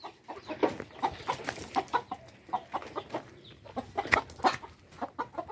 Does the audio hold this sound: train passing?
no